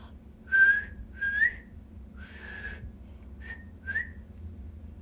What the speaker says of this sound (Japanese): 口笛で曲をいけるよ。